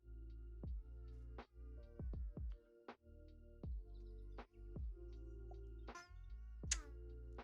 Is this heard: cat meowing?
yes